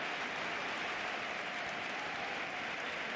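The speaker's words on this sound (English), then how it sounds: "there's even applause from the home fans" Home football fans in a stadium applauding an opposing player's goal, a dense, distant wash of crowd clapping that continues evenly throughout with no voices on top.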